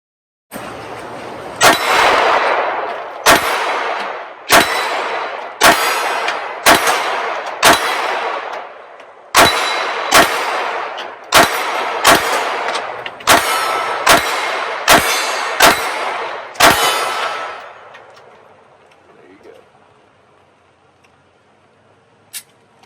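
A pistol loaded with Shield Arms S15 magazines fires about fifteen sharp, loud shots in an uneven string, some in quick pairs, before the shooting stops and a quiet outdoor background remains.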